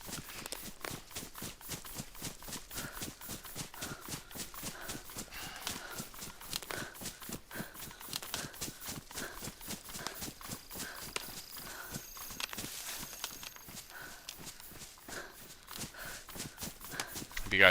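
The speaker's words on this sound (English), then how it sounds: "Have you guys noticed the new stick breaking sounds as you're running through the forest? And your footsteps?" Rapid, steady footsteps with crunching underfoot while running through a forest in the survival video game DayZ, a continuous rhythmic patter heard close throughout.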